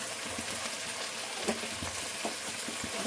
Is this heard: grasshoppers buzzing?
no